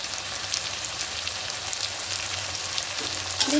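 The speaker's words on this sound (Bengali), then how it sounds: "আদা, রসুন, কাঁচা লঙ্কা পেস্ট আর সমস্ত গুঁড়ো মশলা দিয়ে খুব ভালো করে একটু 2-3 মিনিট একটু কষিয়ে নেব।" Ground coriander, cumin and turmeric with a ginger, garlic and green chili paste sautéing in oil for a catla fish curry with taro stems and potato: a steady, even sizzle heard close, with a brief utensil clink at the end.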